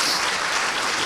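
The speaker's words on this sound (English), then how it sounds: "let's give a round of applause to Dr." Audience applause after a medical talk on multiple sclerosis, dense and steady clapping from a room of listeners over about a second, with no voices.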